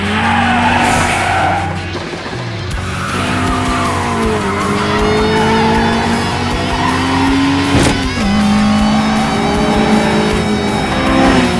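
Racing cars in BeamNG.Drive roar continuously with engines revving and tires skidding and squealing, loud and close throughout with shifting engine pitch and no talking.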